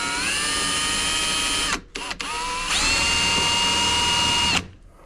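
A power drill drives a self-tapping screw into soft, old metal, its high whine loud and close, pausing briefly around two seconds before resuming steadily and then stopping abruptly.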